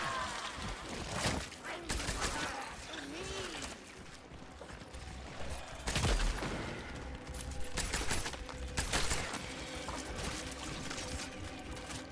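Gunshots in the game Cronos: The New Dawn, a few sharp cracks spread out over a busy, murky background of game sounds.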